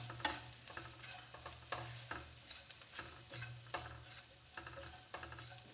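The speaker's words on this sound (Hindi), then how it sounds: "इसको हम भून लेंगे तकरीबन 1 मिनट तक धीमी आंच पे लगातार चलाते हुए।" Leftover puffed rice chaat with chaat masala dry-roasting on a low flame, a faint, soft sizzle with light repeated scraping strokes of constant stirring in a pan, no voices.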